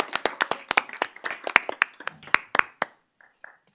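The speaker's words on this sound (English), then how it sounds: "Let's give them a round of applause." Applause at a village board of trustees meeting after a color guard presentation, a small group clapping with distinct claps at close range that thin out and stop within a few seconds.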